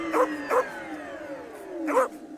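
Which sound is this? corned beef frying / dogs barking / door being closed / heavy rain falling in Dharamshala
dogs barking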